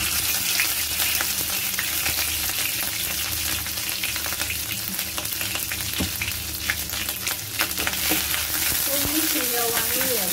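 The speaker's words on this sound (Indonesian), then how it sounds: "Kemudian kita tumis bumbu halusnya dulu ya Bunda" Ground spice paste sizzles and crackles in vegetable oil or margarine over medium heat as it is stirred, a close, steady frying hiss with occasional spoon scrapes.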